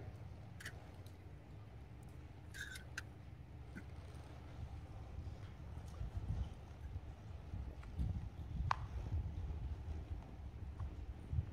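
Hooves of a seven-year-old quarter horse clip-clop faintly at a distance over steady low background rumble and wind, with a few sharper hoof strikes standing out near the middle and end.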